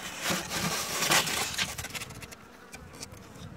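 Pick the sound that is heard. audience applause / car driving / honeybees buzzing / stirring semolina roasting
honeybees buzzing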